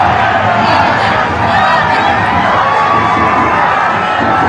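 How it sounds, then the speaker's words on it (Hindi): A large crowd lining the road at Prime Minister Modi's roadshow in Coimbatore cheers and shouts continuously, a dense, loud roar of many voices without a break. "पीएम को देखने के लिए, अपने कैमरे में कैद करने के लिए सड़क के दोनों तरफ भारी भीड़ थी"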